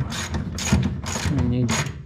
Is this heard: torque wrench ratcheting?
yes